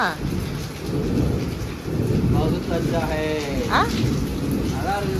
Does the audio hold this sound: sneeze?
no